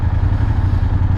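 A Vespa scooter rides past on a Berlin street, its engine a close, loud, low, steady drone with slight clatter throughout the short moment.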